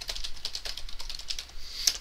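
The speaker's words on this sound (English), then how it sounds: "or by typing a backslash and an asterisk and then entering down a couple lines" Rapid, irregular clicking of keys on a computer keyboard while code is entered, close and fairly quiet, with one sharper keystroke near the end.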